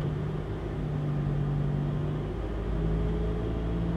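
A manual car's engine, clutch in and first gear selected, holds a steady rev around 2000 rpm, a constant droning hum at close range with a slight swell partway through and no talking.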